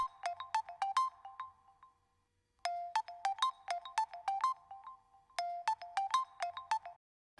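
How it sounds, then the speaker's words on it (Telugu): A phone ringtone for an incoming call in a Telugu TV serial plays a bright, repeating electronic melody of quick plucked notes in three clear bursts separated by short pauses. "బావే ఫోన్ చేస్తున్నాడు అత్తయ్య."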